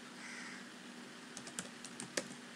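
Keys clatter on a computer keyboard while someone fills in an online application form: a few quick, sharp taps after a short quiet hum, fairly close and faint.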